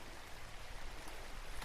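Heavy rain pours down outdoors during a metal-detecting outing, a dense, continuous hiss with no voices.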